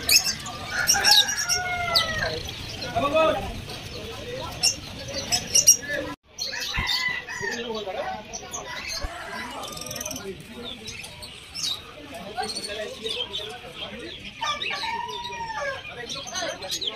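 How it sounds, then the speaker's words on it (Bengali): Chickens and ducks at a Banerjee village livestock market cluck and flap their wings repeatedly, mixed with a rooster's crow and ongoing crowd chatter, filling the busy outdoor scene with overlapping poultry calls near and far. "এখানে বিভিন্ন জাতের হাঁস মুরগি এইসব ছিল।"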